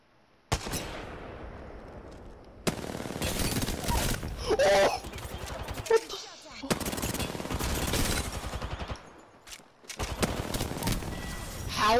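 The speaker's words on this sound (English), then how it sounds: "these shots are barely missing" Gunfire in the battle royale game Apex Legends, loud rapid automatic bursts in several long volleys with brief gaps of quiet between them.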